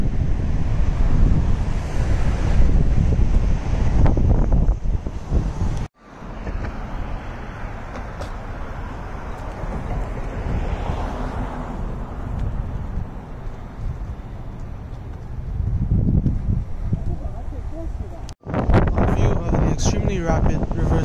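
Loud, rushing water of the tidal Reversing Falls rapids in Saint John, New Brunswick, roars continuously with heavy wind buffeting the microphone, interrupted by a couple of brief dropouts.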